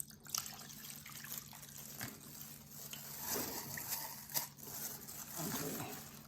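Bourbon chicken marinade containing fish sauce is poured into a container while cooking. It gives a faint, close, liquid splashing and trickling with a few soft knocks, under quiet background voices.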